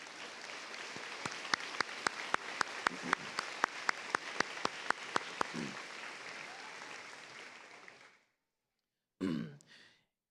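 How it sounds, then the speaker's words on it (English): An audience at a school graduation in a gym claps steadily for several seconds, crisp individual claps standing out over the dense applause, which then stops abruptly; a brief cough or throat clearing follows after a short silence. "give them a round of applause for all they've done"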